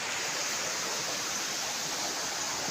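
River water flows somewhere below a hillside path, making a steady, loud, broadband rush that never lets up, with no voices or other sounds over it.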